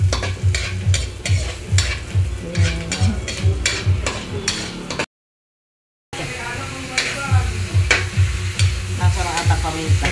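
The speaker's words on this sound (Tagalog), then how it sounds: "Nagigisa po ng sibuyas at saka bawang." Onions and garlic sautéing in a pan for pancit bato, a rhythmic run of spatula stirs and scrapes over a continuous sizzle, broken by a brief second of silence.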